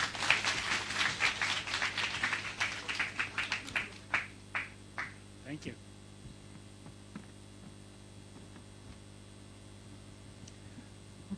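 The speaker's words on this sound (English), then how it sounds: "Please give a round of applause." A small audience at a leadership talk claps for a guest speaker, a burst of loose, sharp claps that thins into sparse single claps and fades into room hum.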